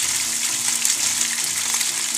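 Spice-coated tilapia fish fries in hot oil, a loud, dense, continuous sizzle and bubbling hiss close up, with no voices over it.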